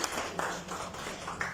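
An audience at a poetry gathering claps to welcome a poet, with a few scattered, fairly soft claps spaced apart rather than a full ovation. The room is otherwise quiet.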